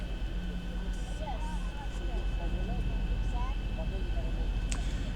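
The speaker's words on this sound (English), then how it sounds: "you can hear some more wind resistance as the plane does a little bit more work to slow down there" Steady airplane wind and engine roar inside a VR flight simulator as the plane slows for landing, a continuous dense rush with faint tonal hum, while a voice talks over it.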